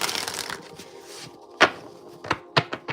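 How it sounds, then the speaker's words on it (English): A deck of tarot cards is shuffled by hand, a soft riffling rustle at first followed by several sharp, close snaps and taps as the cards are squared and cut, with no talking. "Let me get a good shuffle in."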